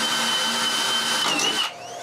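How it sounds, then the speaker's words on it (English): A power drill bores holes into a 2x4 board at the bottom of a carport frame between concrete tiles, a loud, close, steady whine that drops in pitch as the motor winds down near the end. "I drill some holes on the bottom 2x4 between the concrete tiles."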